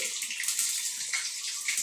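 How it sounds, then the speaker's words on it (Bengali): Garlic fries in hot oil for a mutton curry, giving a continuous bright, hissing sizzle close up, steady for a couple of seconds with no voices. "রসুনটা লাল লাল করে ভেজে নেবো"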